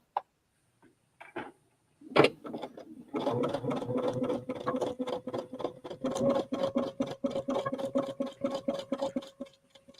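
A sewing machine stitches fabric for a kids' camp project, starting with a few isolated clicks, then a steady rapid rhythmic chatter of needle strokes running close and clear, with no talking.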